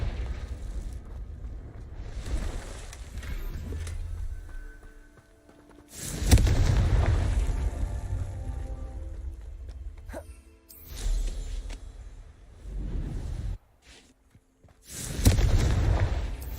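Confringo spells in Hogwarts Legacy set off three heavy, low booms several seconds apart. Each blast swells and then rumbles away into a quieter, murky background of game ambience.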